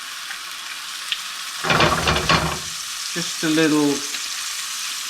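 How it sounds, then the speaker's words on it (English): Mushrooms frying in olive oil give a steady soft sizzle close by, while a voice speaks briefly over it partway through. "Now while our mushrooms are cooking over there"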